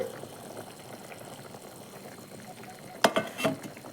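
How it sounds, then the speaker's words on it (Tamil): Broad bean curry bubbles softly in a pot at a low, steady simmer, followed by a few sharper clinks and splashes near the end. "நல்லா கொதித்து வருது பாருங்கள்"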